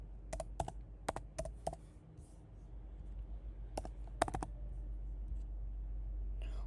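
Keystrokes on a computer keyboard come in two quick bursts of crisp clicks, a run of five or six taps followed by a pause and then a shorter cluster, close and fairly quiet over a low steady hum.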